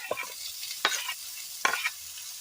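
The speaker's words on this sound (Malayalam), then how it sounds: "ഇതിലേക്ക് നമ്മൾ തക്കാളി ഇട്ട് കൊടുക്കുന്നു" Chopped tomatoes tossed into a hot pan for a Kerala snakehead fish curry, giving a soft steady sizzle with three or four distinct scraping stirs, close and without talk.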